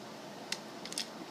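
Scissors snipping a length of bowstring serving thread in a quiet room, one sharp close snip followed by a quick double snip a moment later.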